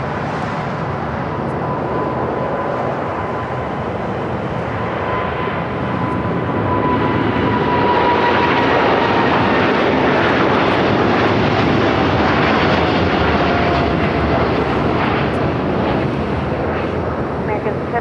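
A Boeing 747-8 cargo jet rolls down the runway at LAX, a broad, building engine roar that swells and holds for many seconds amid wind buffeting on the microphone.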